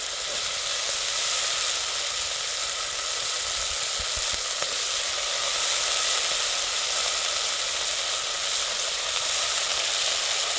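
Potatoes tipped into hot oil sizzle loudly and steadily, a dense continuous frying hiss close by with a couple of faint knocks, while khichdi is being prepared.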